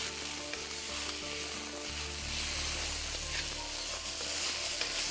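Squash and sweet potato sizzle steadily in a hot pan as they are stirred, a constant close crackle with no talking.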